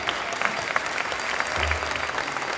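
A round of applause from the audience at a mass graduation for Black male students, steady dense clapping heard throughout the short excerpt.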